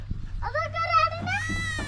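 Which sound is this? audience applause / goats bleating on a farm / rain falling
goats bleating on a farm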